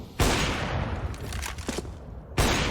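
Rifle fire from Galil and AK rifles in a Counter-Strike match, a dense fusillade of overlapping shots and bursts with two sharp, loud onsets at the start and end and crackling shots in between.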